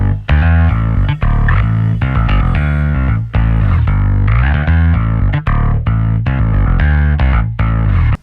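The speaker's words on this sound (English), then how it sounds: "I'm using one of my favorite bass plugins, which is Easy Bass, and I'm using this firm distortion preset from it" A distorted synth bass from the Easy Bass plugin on its firm distortion preset plays a loud, steady line of punchy repeated notes in a pop production, gritty and thick with clear rhythmic note changes.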